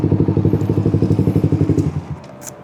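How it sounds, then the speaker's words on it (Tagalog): Motorcycles crowd a busy motorcycle tuning shop, with a loud, close engine throbbing in a fast, even rhythm for about two seconds before fading into quieter background noise. "Busy, ang daming motor."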